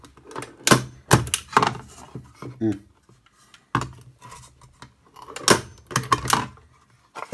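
A Parkside manual staple gun from Lidl fires into scrap parquet wood, giving several sharp, loud snapping clacks in two bursts with short pauses between, close up and with no talk.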